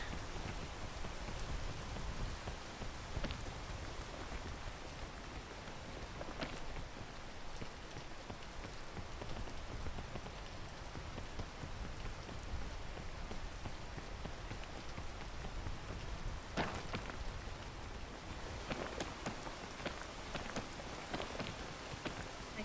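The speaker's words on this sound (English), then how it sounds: "Rain again." Rain in the video game PEAK, a steady, dense downpour hissing continuously throughout, with occasional louder splashy bursts and no speech.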